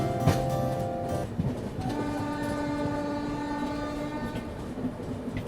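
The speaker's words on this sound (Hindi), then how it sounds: "बाकी बहुत ही खूबसूरत अराइवल हो रहा है अपना सूरत रेलवे स्टेशन पे।" A Mumbai–Ahmedabad double-decker express pulls into Surat railway station, its horn sounding in long sustained blasts over the steady rumble and clatter of the wheels, loud and close throughout.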